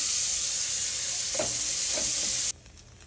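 A buttered sandwich frying butter side down in a hot pan, a steady even sizzle with a few soft bumps of movement, then cutting off abruptly near the end to near quiet.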